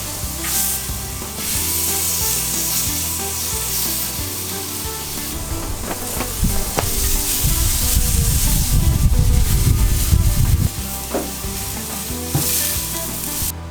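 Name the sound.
venison back strap pieces searing on a grill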